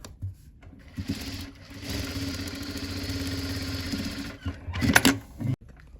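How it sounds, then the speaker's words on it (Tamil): Sewing machine running steadily while stitching a blouse, a continuous close mechanical whir that starts, holds for about three seconds, then stops with a few short bursts near the end; no talking. "ஆப்போசிட் சைடு இந்த மாதிரி தைச்சிக்கோங்க"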